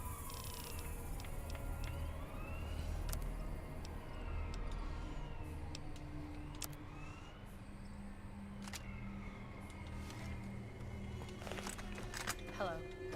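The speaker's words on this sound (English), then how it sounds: "there is a police siren going off in the background" A police siren wails faintly in the background of Fallout: New Vegas, its rising and falling tones sweeping under steady game ambience while someone talks.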